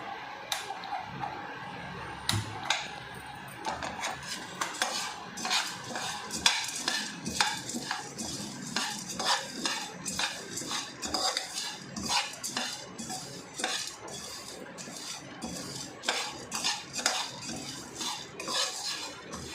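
Sesame and poppy seeds being roasted in a pan for hurigadle thambittu, with a spoon repeatedly scraping and clinking against the metal in an irregular, busy rhythm, close and fairly loud throughout.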